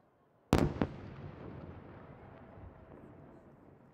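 Star mine fireworks from Nomura Fireworks Industry at a competition display: two sharp loud bursts close together near the start, followed by a long crackling, rumbling decay.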